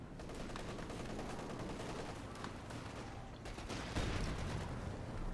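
Dense, continuous gunfire in a World War II strategy video game, rapid overlapping shots and bursts forming a steady crackle, with a heavier impact near the end, no voices.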